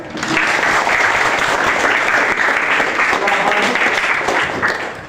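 Classroom students clap together in steady, dense applause, close and fairly loud, continuing without pause throughout.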